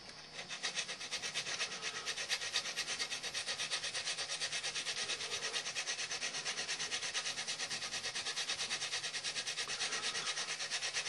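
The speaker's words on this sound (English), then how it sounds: "Let me go ahead and sand that back side down." Steady back-and-forth sanding on the body panel of a 1962 Mercury or 1972 El Camino, a continuous close rasping scrape with even rhythmic strokes filling the whole stretch, no voices.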